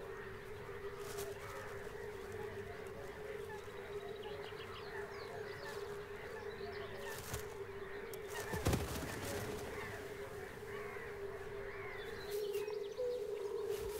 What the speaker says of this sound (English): The little cuckoo no longer fits into the warbler nest. He never stops begging